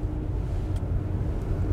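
A 1979 Mercedes 450 SEL 6.9 cruising on the Autobahn gives a deep, steady engine drone blended with road and wind noise, heard from inside the car without any talking.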